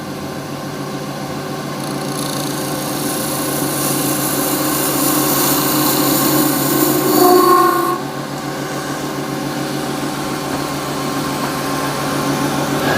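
A lathe spins steadily while a skew chisel turns a polyester resin shaving brush handle, a continuous motor hum and whine with a brief louder scraping cut in the middle, close and fairly loud.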